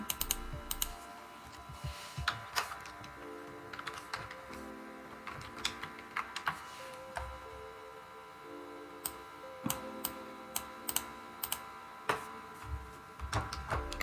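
Computer keyboard typing while on-screen text for a YouTube thumbnail is edited, a steady run of light clicks with sharper key taps scattered throughout, fairly quiet and alone with no talking.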